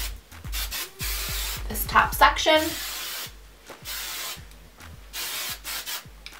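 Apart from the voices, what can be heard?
hair spray being sprayed on hair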